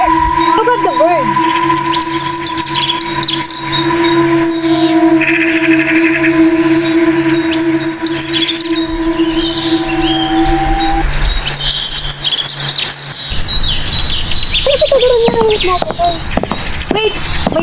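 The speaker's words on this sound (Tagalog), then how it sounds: "Look at the bird." Birds chirping high in the Tibetan mountains, loud repeated tweets and calls over a steady tonal hum, with people talking throughout.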